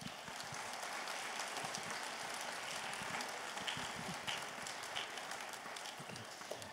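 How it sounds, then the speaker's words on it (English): Sustained applause from an audience at a middle school spring festival concert, a dense, steady wash of many hands clapping close by for several seconds without letup. "Can we please give them a round of applause?"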